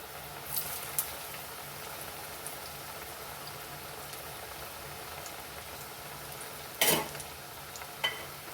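Vada sizzling in hot oil for a mixed-dal South Indian style fritter, a steady soft crackle and hiss throughout with a couple of brief louder spits, nearby and with no talking.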